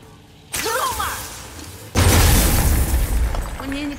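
A video game blast bursts in with a loud whooshing boom, followed moments later by a second, heavier explosion that rumbles and decays over a roaring low end.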